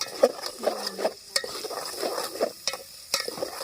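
Chicken masala is stirred and sautéed in a pot over a wood-fired stove, with repeated scraping strokes of a spoon at an irregular rhythm over a continuous soft sizzle and no voices.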